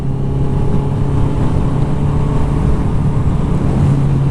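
A forty-year-old Suzuki GS 750 motorcycle engine drones loud and close, holding a steady, throaty hum throughout as it pulls ahead.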